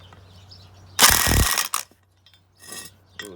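Wrench work loosening brake caliper bolts on a Nissan D21 pickup, one loud grinding ratchet-like turn followed by a short scrape, then lighter rubbing clicks after a brief pause.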